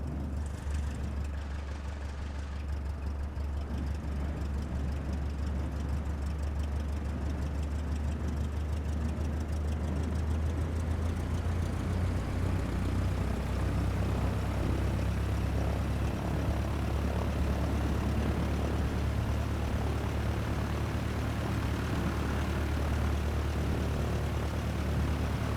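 Airplane taxiing in Microsoft Flight Simulator 2020 on a taxiway just off the runway, a steady loud engine and propeller drone holding level throughout, with no talk.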